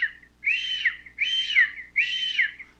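Three loud, close whistled calls imitating a hawk, each a rising then falling shrill note, spaced evenly with short gaps, used by a pigeon keeper to scare pigeons.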